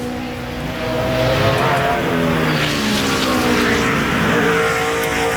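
A NASCAR Sprint Cup race car on a 2010 qualifying lap at Watkins Glen, its engine roaring loud and steady throughout with a gently rising and falling pitch.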